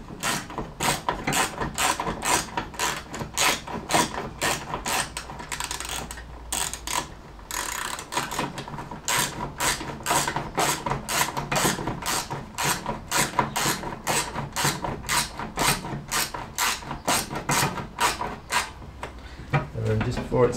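Rapid ratcheting clicks from a wrench tightening the fuel tank strap bolt on a classic Fiat 500, a steady close run of mechanical ticks lasting the whole stretch with a brief pause near the middle.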